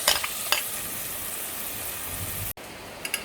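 Seafood hitting hot olive oil in a pan for fried rice, a steady close sizzle with a few sharper crackles, then a brief cut near the end before the frying resumes.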